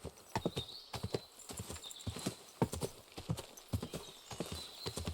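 Horse hooves from riding in the medieval game Kingdom Come: Deliverance II, a fast, quiet clip-clop with steady repeated beats and a faint whinny in places.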